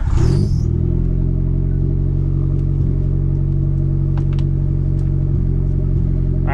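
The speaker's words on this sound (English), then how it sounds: "Lambo's pulling up, so we'll take some videos of it on track" A Lamborghini's engine idles steadily and loud at a race track, a continuous low drone throughout, with a brief burst of higher noise at the start and a few faint clicks later.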